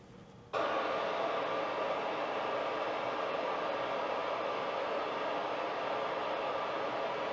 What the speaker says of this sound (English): I'll run the signal pink noise again.